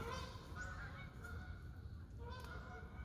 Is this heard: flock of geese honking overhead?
yes